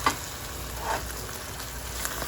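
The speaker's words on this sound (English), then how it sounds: "the corned beef hash is cooking well" Corned beef hash of potatoes and meat sizzles steadily in a skillet, a soft continuous frying hiss with a few faint pops, no talk.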